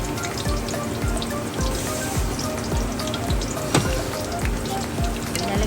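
Coconut milk poured into a sizzling pan over sautéed onion for ginataang tulingan with tomatoes, a steady close sizzle and bubbling with scattered drips and pops, one sharper splash near the end, no talk.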